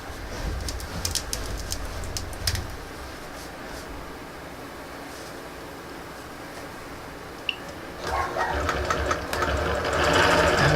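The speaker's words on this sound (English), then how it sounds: "Stitching the binding down this side" A longarm quilting machine stitches binding down the side of a Prairie Blossoms quilt on the frame, a steady mechanical whirring hum running throughout with scattered clicks and louder bursts of stitching near the end.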